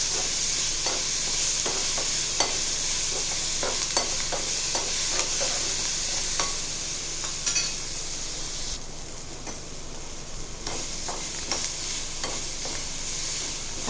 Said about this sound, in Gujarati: હવે આપણે તેને 5 મિનિટ માટે સાતળવા દેવાના છે